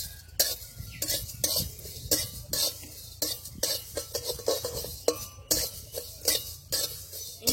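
Coriander seeds fry with dried red chillies in a pan for a vegetarian jackfruit curry, a light sizzle under a steady run of quick metallic spatula scrapes and taps.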